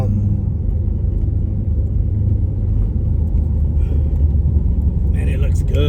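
A car with 315 tires and newly changed springs drives over a very bumpy back road, producing a loud, steady low rumble of engine and road noise throughout, with faint higher rattles near the end.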